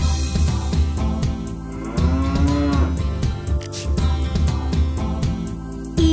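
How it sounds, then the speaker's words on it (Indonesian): Cow moo in an Indonesian children's farm song, a sustained lowing call between 2 and 3 seconds set against continuous sung music with instruments throughout. "di peternakan ada sapi"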